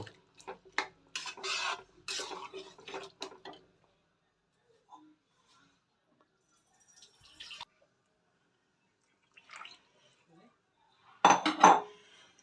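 A metal spoon stirs peas for vegetarian ghugni in a pan, giving scattered bursts of clinks and scrapes separated by long quiet gaps, ending in a louder cluster of clatter.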